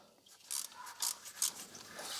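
Torx T15 bolts being loosened and removed from the water pump of a Mercedes CLS, giving close, raspy ratcheting and scraping bursts in a steady rhythm, with no talking.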